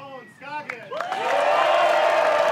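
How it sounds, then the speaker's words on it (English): Crowd cheering and applause for a disc golf player at a championship final, rising from scattered whoops into a sustained loud roar that holds steady to the end, following a brief stretch of talk. "Be a bit of an extra cheer there for Owen."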